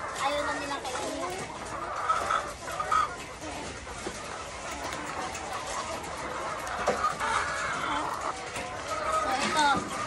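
RTL chickens clucking and murmuring as a flock while being fed, a continuous low chatter of fowl with occasional louder calls, with a person talking over it.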